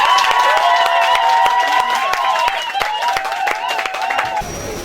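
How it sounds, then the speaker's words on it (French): Children at a cultural event tied to the Bamougoum kingdom's Nekang ritual clap in a dense, steady patter alongside cheering voices and a melodic vocal line, fading out toward the end. "Les enfants, applaudissez pour notre..."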